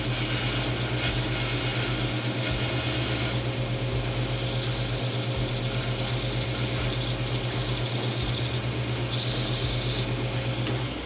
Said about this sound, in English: All right, let me just hit it on the bandsaw real quick.